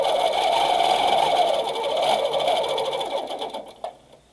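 A Baby Lock Regent sewing machine stitches along a ruler in a steady, close mechanical hum that runs continuously, then tapers off near the end with a couple of small clicks.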